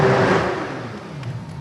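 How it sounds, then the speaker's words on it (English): A Porsche 911 992-generation race car roars past at the Estoril circuit, a loud engine sweep that fades to a distant, echoing rumble around the grandstands. "The roar of the Porsche 911 992 generation car sounds like a dinosaur as it echoes around the grandstands here in Estoril."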